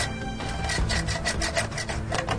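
Two halves of a DP28 pan magazine are rotated against each other, producing a steady close metallic scraping and rubbing with a rhythmic ratcheting texture throughout.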